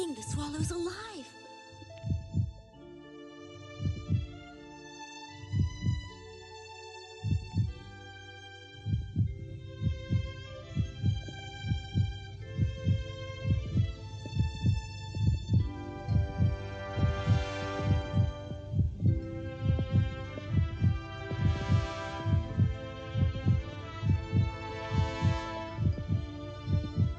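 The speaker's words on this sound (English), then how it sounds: "It's true. Its heart's beating." Steady, rhythmic heartbeat thumps pulse evenly through the whole stretch under a sustained musical hum, with low, regular beats continuing from start to finish.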